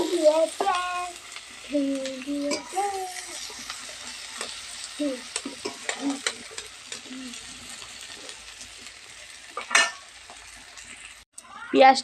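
Onions fry in a pan and are stirred now and then, a soft continuous sizzle with occasional utensil scrapes and clinks, while a voice speaks intermittently over it, mostly early on and near the end.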